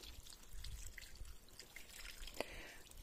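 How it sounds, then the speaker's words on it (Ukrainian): Warm water pours and trickles into a washing machine for a dacha, a faint continuous wash of liquid with a small splash or drip near the end. "Ось наливаємо теплої водички."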